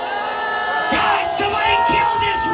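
A live comedy show audience jeers, with several loud bursts of shouting and groaning rising over a steady murmur of the room, each outburst short and spaced about half a second apart.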